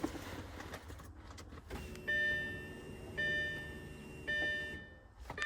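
A B7 Audi A4 2.0 TFSI's electronic warning chime beeps three times in sustained, evenly spaced tones over a low engine-bay hum.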